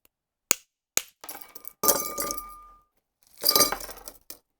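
Ice clinks against a glass as a bourbon cocktail is stirred, with a few sharp clicks first, then two bursts of rattling, close and clear.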